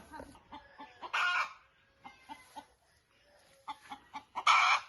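Chickens cluck in short, uneven bursts close by in a farmyard, with a few louder, sharper squawks breaking through between quieter stretches.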